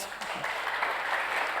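Steady audience applause fills a hall at a national discussion forum, a soft continuous patter of many hands at moderate distance, with faint voices underneath.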